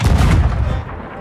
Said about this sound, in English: As part of adding the cannon to the rowboat, Obviously, it's a big thing. It fires like that.